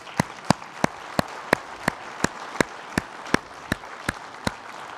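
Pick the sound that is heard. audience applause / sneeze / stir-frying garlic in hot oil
audience applause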